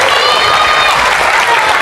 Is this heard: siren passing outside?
no